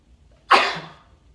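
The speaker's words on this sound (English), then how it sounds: "a sneeze comes out of nowhere" One sudden, loud sneeze bursts out close up, with a breathy trailing release, against near silence.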